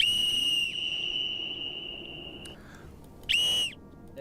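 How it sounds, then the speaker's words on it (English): A very loud, piercing whistle sold as the world's loudest blows one long steady blast, then a second short sharp blast after a pause. "I went and bought the world's loudest whistle. This can get as loud as 142 decibels,"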